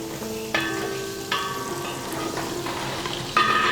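Onions frying in a pan, a steady sizzle with a few sharp metallic clinks and scrapes of a spoon stirring against the pan at intervals.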